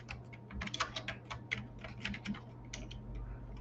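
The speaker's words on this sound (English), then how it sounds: "Let's type in our name" Quick, light keystrokes on a computer keyboard as a name is typed in, a steady patter of separate clicks close by, with no talk over them.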